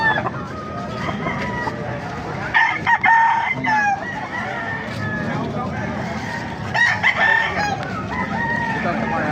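Several gamecock roosters of the Hennie breed crow repeatedly at a busy poultry market in Baliuag, Bulacan, loud and near, with bursts of crowing and clucking over a steady crowd murmur and background chatter.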